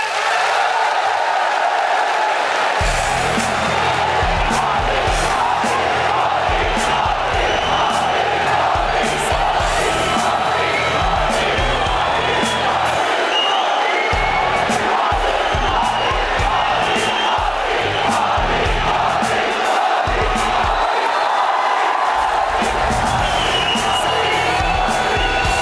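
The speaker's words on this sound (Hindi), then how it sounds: "अगर आप नरेंद्र मोदी की बातों पर विश्वास करते हैं तो हाथ उठाकर ताली बजाकर समर्थन करें।" A large studio audience at a televised interview with the Indian prime minister claps, cheers and whoops loudly and continuously, a dense sustained roar of crowd noise with shouted calls rising throughout.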